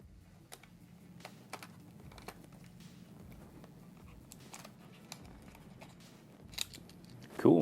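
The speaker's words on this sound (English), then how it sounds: "So just start by taking out all the outer screws." Small screws are removed from the outer shell of a Nintendo Switch with a screwdriver, giving faint, irregular clicks and light scraping, close and quiet, ending in a louder clatter.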